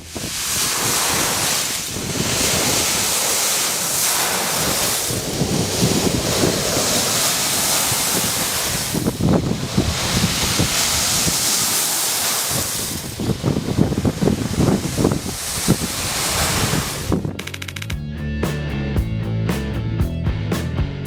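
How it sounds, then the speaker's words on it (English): Waves wash and churn continuously with a gritty, crackling texture like ice fragments, rising and falling in surges, with wind buffeting the microphone. "Ice waves are more pleasant to listen to than normal waves."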